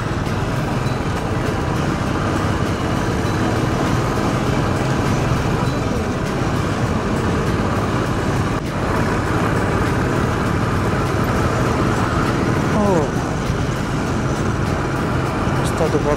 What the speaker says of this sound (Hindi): ट्रक आया हुआ है इस रोड पर, ट्रक निकल रहा है